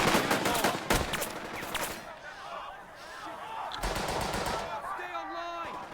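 Machine gun fire in the World War II strategy video game Burden of Command, with rapid bursts of automatic shots and explosions under faint game voices, loud and dense throughout.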